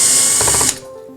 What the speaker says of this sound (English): You're going to start by removing the front 3 screws,